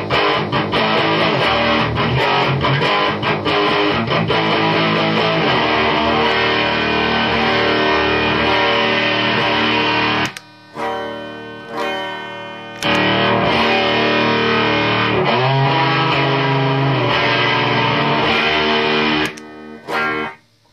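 An electric guitar plays through a Thermionic effects pedal set to full-on distortion, thick saturated chords ringing loudly with a couple of abrupt pauses and stabs before strumming resumes.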